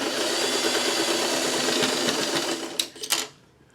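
A sewing machine runs steadily at close range, a continuous rapid whirring stitch that stops near the end with a few clicks.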